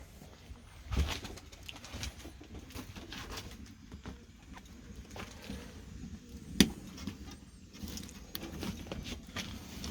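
Homing pigeons in a loft coo softly and intermittently while feed is scattered, with occasional rustling and a sharp knock, all fairly quiet and without speech.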